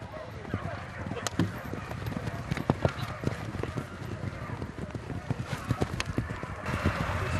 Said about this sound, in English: A quick gallop across the field, and the hunt reaches the palace grounds.